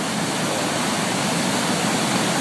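Water rushes through an opened flood gate at a hydroelectric dam, a loud, steady broadband roar with no breaks, filling the whole moment without voices.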